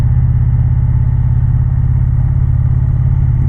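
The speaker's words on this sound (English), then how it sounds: "Little rip on the bike" An Indian Challenger motorcycle fitted with a Rinehart exhaust rumbles steadily under way near Greenwood Lake, New Jersey, its deep pulsing engine note loud and close, with no voices.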